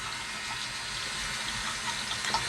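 Tap water streams steadily over a cordless nose and ear hair trimmer held under a faucet, a continuous close hiss and splash with no talking.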